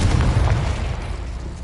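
A Confringo spell explosion in a Harry Potter video game: one deep, close boom that rumbles and slowly fades over under two seconds.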